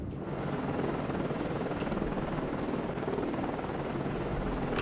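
A naval helicopter hovers aboard a ship in the submarine warfare game Cold Waters, a steady close rotor drone with dense low rumble throughout, broken by faint clicks.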